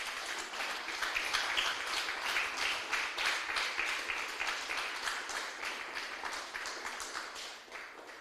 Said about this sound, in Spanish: Denle un aplauso fuerte al Señor, aleluya.